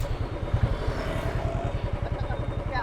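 A Royal Enfield Classic 350 motorcycle ridden along at a steady pace, its low engine thump pulsing evenly and close up, with a broad wash of road and wind noise over it and no talking.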